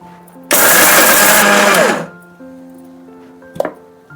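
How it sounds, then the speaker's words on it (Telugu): A kitchen mixer grinder whirs loudly as it grinds roasted sesame seeds, curry leaves and tamarind for a bitter gourd spice powder, running in one steady burst of about a second and a half before winding down, followed by a faint hum and a brief clunk. "నువ్వులు, కరివేపాకు, చింతపండు ఇవన్నీ మిక్సీ చేద్దాము."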